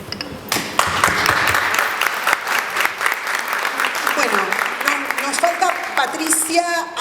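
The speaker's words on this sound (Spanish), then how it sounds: "este aplauso es para ustedes." Loud, dense applause from an audience at a primary-school literacy course event, sustained for several seconds with voices mixed in toward the end.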